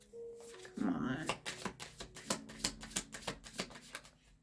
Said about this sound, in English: I feel like I spend more time shuffling than anything.